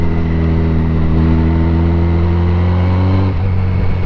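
A 2007 Yamaha FJR1300 touring motorcycle engine drones loudly and steadily while riding on rough roads, a constant humming rumble with a slight shift in pitch near the end.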